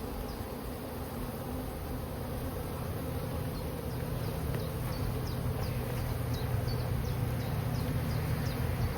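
Honeybees swarming around an opened beehive during a hive inspection, a steady dense buzzing drone close by that holds loud and even throughout, with individual bees whining past and no speech.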